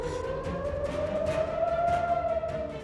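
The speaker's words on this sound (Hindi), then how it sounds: "पूरे क्षेत्र में सिर्फ सुनाई दे रही थी सायरन की आवाजें।" Air raid sirens wail across Israel during a Houthi missile attack, a steady rising-and-falling tone heard at a moderate distance with no voices.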